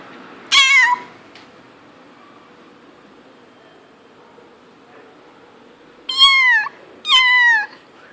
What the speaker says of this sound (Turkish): Kediler miyavlamaya başlamıştı